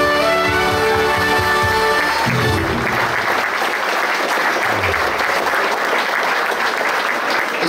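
An audience claps at a Schützenfest coronation, with dense, sustained applause that fills the room at close range after music fades out, continuing steadily without a break.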